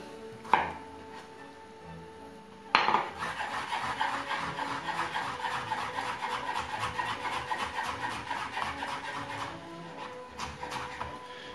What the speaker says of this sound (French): on va couper grossièrement le gingembre